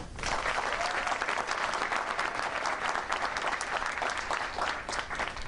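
Loud, sustained applause from an audience at a Google Chicago event where the mayor is being introduced, steady clapping filling the space without a break.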